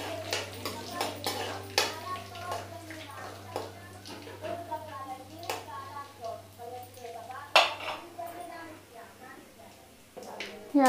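Intermittent clinks and scrapes of a utensil against a pan as spices are sautéed for a kadhi pakora tempering, over a low steady hum, with someone talking throughout.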